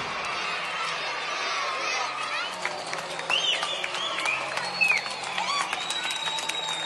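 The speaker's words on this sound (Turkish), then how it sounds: "Alkış ve tezahüratlar hiç kesilmedi." Schoolchildren lined up outside their school clap and cheer for a retiring teacher, with scattered applause mixed with high excited shouts, whoops and lively chatter throughout.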